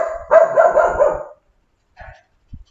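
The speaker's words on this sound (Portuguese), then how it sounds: "Deixa eu tirar aqui o cachorro." Single dog gives a close, loud drawn-out bark or howl-like yelp, then falls quiet apart from a couple of faint short noises.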